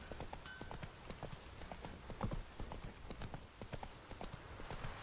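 Hooves of Roach, a horse in the video game The Witcher 3, trotting in a steady rapid clip-clop rhythm, close and continuous with faint background ambience.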